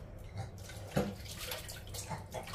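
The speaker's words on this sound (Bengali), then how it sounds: "তাই আলুটাকে আমি ধুয়ে নেবো।" Pieces of potato are rinsed in water for a biryani, with soft sloshing and splashing and one brief louder splash, heard fairly close at low volume.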